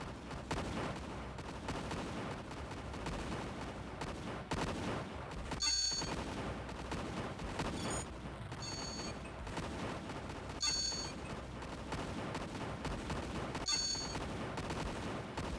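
Units focus-firing on tanks in the space strategy game Imperium Galactica: continuous rapid gunfire and rattling bursts, fairly loud and steady, broken by occasional sharper cracking impacts, with no talking.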